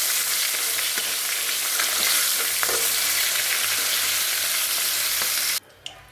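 Katla fish and potatoes frying together in oil make a dense, loud, close sizzle with crackling spatters. It stays steady until it drops away suddenly just before the end.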